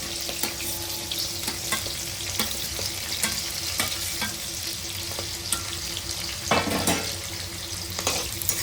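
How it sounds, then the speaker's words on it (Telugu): Onions sizzle steadily in hot oil with curry leaves and green chillies for a chicken buttermilk curry, a dense, even frying hiss with occasional stirring scrapes and small pops, and no talking. "ఉల్లిపాయలు కూడా వేసేసుకుంటాను నేను ఇందులో"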